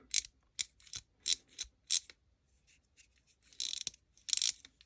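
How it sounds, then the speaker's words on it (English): Ratchet of Pressmaster dual-size insulated connector crimping pliers clicking in short bursts, about a dozen crisp close ratcheting snaps with brief pauses between, alone with no talk. "Sometimes the ratcheting mechanism locks up, and it's also missing the locking ring."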